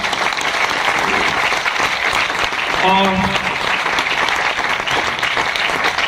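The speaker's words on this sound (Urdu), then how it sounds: "ہم سب پرزور تالیوں سے انہیں ویلکم کہتے ہیں" An audience claps steadily to welcome guests at a church gathering, a dense, continuous wash of applause lasting throughout, with a brief spoken word and a short sung or held tone rising above it midway.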